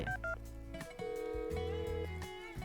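A telephone being dialed in the farming video game Stardew Valley, a short run of electronic tones and beeps over soft background game music.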